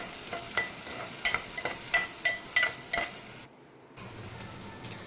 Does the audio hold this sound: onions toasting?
yes